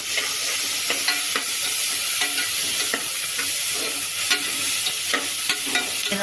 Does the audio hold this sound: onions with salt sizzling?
yes